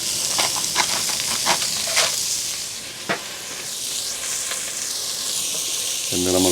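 An onion fries in bacon and brisket fat, sizzling loudly and steadily in a close hot pan, with a few stirring scrapes early on and a short voice near the end.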